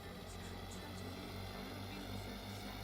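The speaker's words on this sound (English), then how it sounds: "That's what a plane really sounds like on takeoff." An airliner's engines roar steadily during takeoff in a flight simulator, a continuous dense broadband rumble with faint higher whine, loud and unbroken for the whole stretch.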